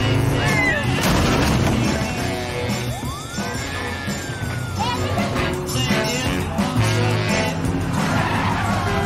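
A car floors it and speeds off as police prepare to chase, with sharp tire squeals sweeping up and down over a loud, rough engine roar and what sounds like a music score underneath.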